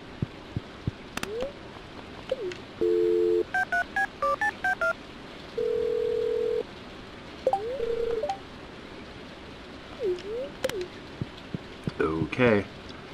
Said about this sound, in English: let's use the phone